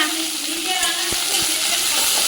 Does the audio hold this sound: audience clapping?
no